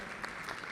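Applause breaks out for social workers at a Social Worker's Day celebration, a short burst of clapping from the audience.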